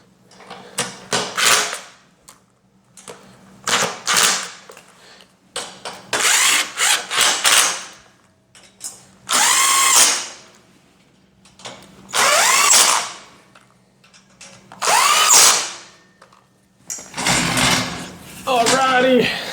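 A power driver tightens screws on a shoe rack bench during assembly, sounding in repeated loud whirring bursts of a second or two separated by short pauses.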